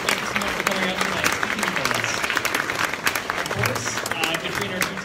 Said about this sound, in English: Let's give one last round of applause.